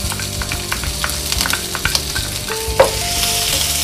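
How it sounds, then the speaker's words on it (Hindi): Steady sizzling of ginger, garlic and green chilli paste frying in hot oil, with light stirring clicks and a sharp crackle near the end, no voices. "अब इसमें हम ये अदरक लहसुन और हरी मिर्च का जो पेस्ट बनाया था वो डाल देंगे।"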